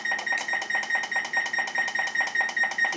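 An electronic oven timer beeps over and over in a fast, even rhythm while it is being set, each short, piercing bleep clear and close with no talking.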